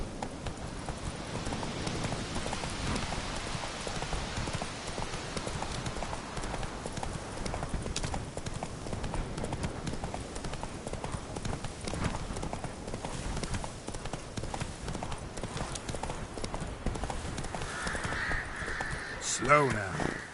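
Hooves of Roach, the horse in The Witcher video game, clip-clop steadily throughout, mid-distance and continuous, with crows cawing in the background and an occasional soft voice over the scene.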